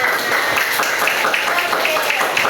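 A classroom of students claps together in a fast, even, rhythmic pattern that fills the room, steady and fairly loud from start to finish.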